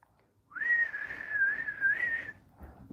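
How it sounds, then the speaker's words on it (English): A person whistles a single wavering sustained note for almost two seconds, close and fairly soft, alone in a quiet room. "That's the best whistle I can do."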